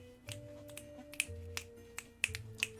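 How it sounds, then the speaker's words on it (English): Fingers snap repeatedly in an irregular series of sharp, close clicks at a costume showcase, with a faint hum underneath and no talking. "I feel fancy with my snapping fingers."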